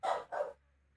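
A dog barks twice in quick succession at people coming home, close and sharp, followed by quiet.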